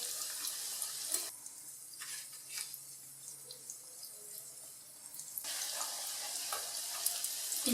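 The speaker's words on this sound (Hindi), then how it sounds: "सारे ऐसे ही फ्राई कर लूँगी इसमें।" Chicken, potato and cheese cutlets fry in a pan of oil, a continuous hissing crackle that dips quieter through the middle stretch and swells again, close by with occasional faint clicks and no voices.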